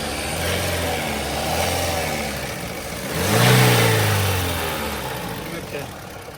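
A Toyota Corolla engine idles with a rough, uneven rumble, then revs up briefly and settles back, with a knocking, irregular crank noise throughout.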